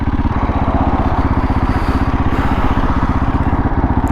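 A motorcycle engine runs steadily while the bike is ridden, a close, loud and rapid pulsing thrum that holds an even pitch, with no talk.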